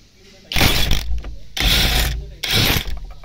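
Power tool loosening a steering bolt on a Hyundai Accent with an electric power steering fault, three loud close bursts of rapid mechanical rattling and whirring, each lasting about half a second to a second, separated by brief quiet gaps.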